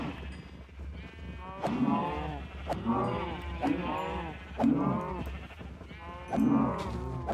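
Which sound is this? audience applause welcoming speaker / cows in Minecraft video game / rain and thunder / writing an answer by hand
cows in Minecraft video game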